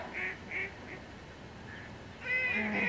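Ducks quack in short, nasal bursts, a few spaced calls early and then a louder overlapping chorus at the end, heard outdoors on a hunt.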